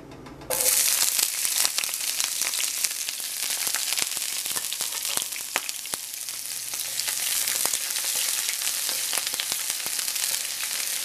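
Onion frying in a pan as frijoles fritos with corn are prepared, a loud dense sizzle that bursts in as it hits the oil and crackles steadily throughout, with no voices.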